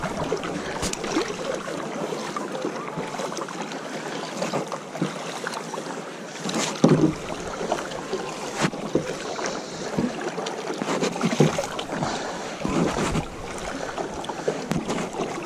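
Rowing boat out on Lake Tisza near Tiszafüred, with soft oar strokes and water sloshing under steady wind noise on the microphone, plus a few sharper knocks against the hull.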